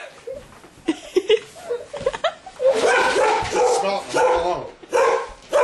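A dog barks and yips in short bursts, some with a whiny edge, close by and fairly loud, with pauses in between.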